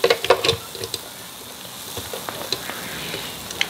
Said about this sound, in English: So I'll probably need to fry up a little bit more.